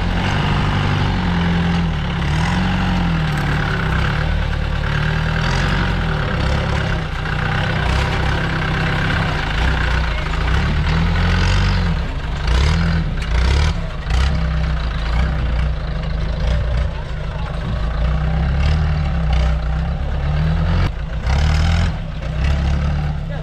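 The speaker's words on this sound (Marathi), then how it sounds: "कशी चढलेल्या का गाडी" A car engine labours up a steep hill road toward Valmiki plateau in Patan, a loud, close, continuous low growl that rises and strains in waves, with occasional voices in the background.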